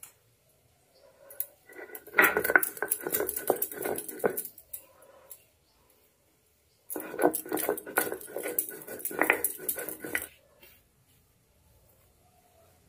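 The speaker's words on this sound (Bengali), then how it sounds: "গোলমরিচটাও এবার বেটে নেব।" Black peppercorns being ground for a rohu fish bhapa, heard as two separate bursts of gritty, rhythmic scraping and knocking. Each burst lasts a few seconds, with quiet in between.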